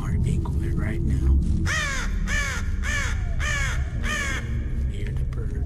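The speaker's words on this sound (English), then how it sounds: "Hear the birds." Crows cawing in a realistic bodycam police video game, a run of five loud, harsh caws in steady rhythm over constant background noise, with no one speaking.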